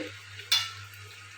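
Green jackfruit sautéing in a pan, a quiet background sizzle broken by one sharp scraping stir of a spoon against the metal partway through.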